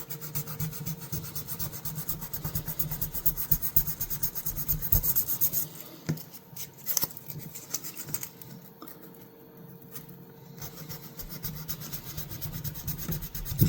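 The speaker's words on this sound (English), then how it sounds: "fold it over, and get into that groove and just give it a quick rub." Folded abrasive rubbed back and forth in the groove of a Schrade Copenhagen pocket knife during hand restoration, a steady close raspy scrubbing for several seconds that eases off into lighter, intermittent strokes.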